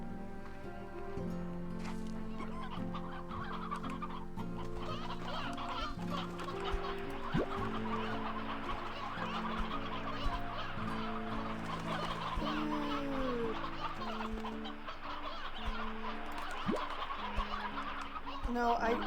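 Roosters in the video game Slime Rancher 2 cluck and squawk in a busy, continuous chatter over steady background music for nearly twenty seconds.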